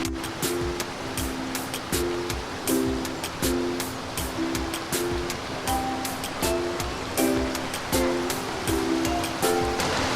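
Water rushes steadily in a shallow morning stream at a campsite, a dense, continuous wash with no breaks and faint recurring chirp-like tones above it.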